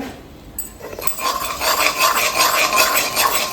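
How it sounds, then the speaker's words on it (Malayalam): Spices sautéed on low heat in a pan, a steady sizzle with repeated scraping and stirring strokes that grow fuller after the first second, close and alone without talk. "എന്നിട്ട് നമുക്ക് അതൊക്കെ നന്നായിട്ടൊന്ന് വഴറ്റാം കേട്ടോ."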